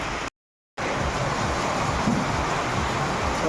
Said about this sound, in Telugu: అయితే ఫుల్గా పడుతుందండి వర్షం.